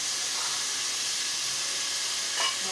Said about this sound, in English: you hear that sizzle, so you know it's working